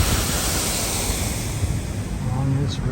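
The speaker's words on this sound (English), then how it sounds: "Waterfall" A waterfall along a road in Glacier National Park roars as a dense, steady wash of rushing water, loud and unbroken throughout.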